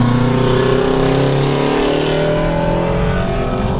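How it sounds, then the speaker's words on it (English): A loud race car engine roars close by on a dry race track, its pitch climbing and shifting as it revs past. "That's a race car."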